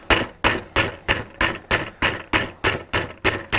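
Parts are tacked together during scratch building. About a dozen sharp, evenly spaced impacts land at a quick steady rhythm, close and fairly loud, with no talking.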